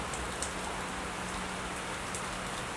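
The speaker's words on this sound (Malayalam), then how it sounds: "ഇന്നിവിടെ നല്ല മഴയാട്ടോ." Heavy rain pours steadily outdoors among leafy green trees on a cold day, a dense, continuous hiss of drops with no pauses and no voices.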